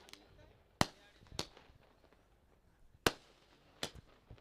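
Firecrackers burst to welcome guests at a local cricket tournament match, four or five sharp separate bangs spaced irregularly over faint background noise.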